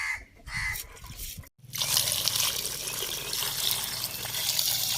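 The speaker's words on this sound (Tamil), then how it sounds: "வறுக்கிற மீனை வந்து இப்போ கழுவிக்கலாம்." Tap water splashing into a sink while jilebi fish is washed in a kitchen, a steady close rushing stream that briefly cuts out then resumes louder and fuller.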